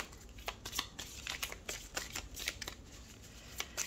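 Tarot cards shuffled and handled for a reading, a close, quiet series of rapid papery riffles and flicks in an uneven rhythm with no voice.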